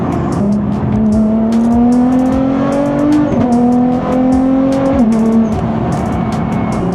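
A Nissan GT-R with all-wheel drive accelerates hard on a wet road in the rain, its engine note climbing steadily through two quick gear shifts, loud and close with constant rain and road hiss underneath.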